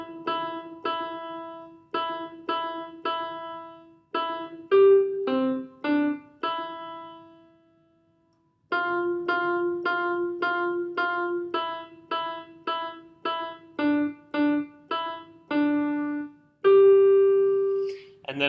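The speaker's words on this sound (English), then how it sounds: "I'm going to be able to play Jingle Bells" Jingle Bells picked out note by note on a keyboard, clear steady tones in the song's familiar rhythm, with a short pause midway before the melody carries on to a held final note.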